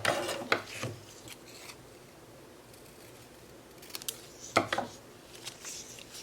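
Scissors snipping through folded paper while working on an altered book, a few crisp rasping cuts near the start and another pair of short cuts later, with quiet pauses between.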